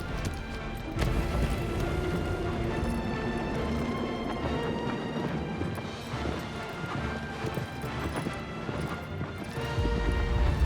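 Rhythmic hoof clip-clops from a galloping horse in Shadow of the Colossus, steady and fairly loud, over a dense backdrop of game music and ambience, with no talking.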